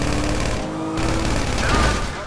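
Drive-by shooting gunfire from a car in Grand Theft Auto 5, a dense burst of rapid game shots mixed with engine and crash noise and people talking over it throughout.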